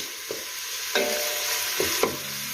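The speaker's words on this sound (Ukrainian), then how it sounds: "Трішки цибулі залишаємо, підсмажуємо до прозорості." Chopped onion fries steadily in a pan, a continuous close hiss with a few brief scraping stirs of a utensil, no voices.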